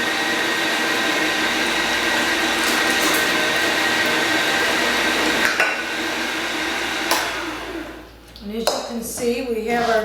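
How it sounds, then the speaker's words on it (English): A meat grinder churns meat for meatloaf with a steady loud motor whir that winds down near the end, followed by brief clattering; a person talks over it. "we're finishing up our grinding"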